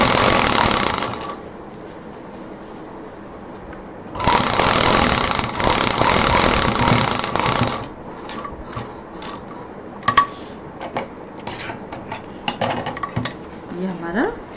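A sewing machine stitches a bag's lining and zip in two loud, steady runs separated by a pause, followed by scattered light clicks and handling noises.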